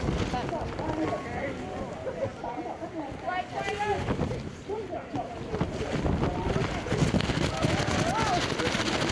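Strong wind rushing and buffeting steadily across the microphone on a trip in Vietnam, with people talking over it throughout.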